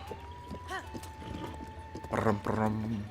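A horse's hooves clop in a quick rhythmic gallop in The Legend of Zelda: Breath of the Wild, with a whinny-like call and a voice speaking over it near the end.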